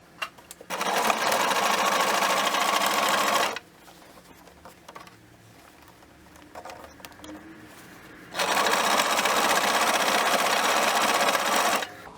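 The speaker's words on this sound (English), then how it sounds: "we're just going to sew as per normal, but with the adjusted settings on the sewing machine" A sewing machine stitches elastic shirring into fabric with adjusted settings, running in two steady bursts of fast mechanical whirring separated by a quiet pause, close and loud with no talking.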